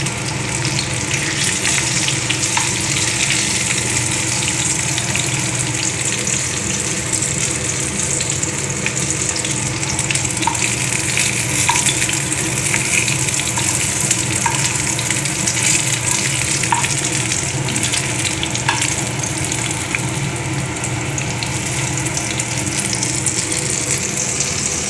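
Pomfret fish fry steadily in a pan of hot oil, a dense, even sizzle and crackle that runs loud and unbroken from start to finish, with a few faint clicks and no voices.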